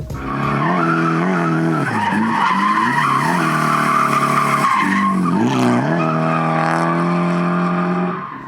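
Tires squeal continuously as a car drifts, a loud, sustained skidding screech with engine roar, wavering in pitch and running almost the whole time.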